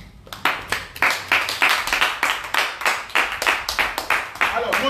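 Congregation at a French-language church service clapping in a steady, rapid rhythm, many hands together in a dense, fairly loud burst that continues throughout, with voices mixed faintly underneath.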